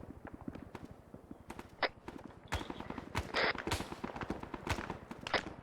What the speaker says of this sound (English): Open fire when you see it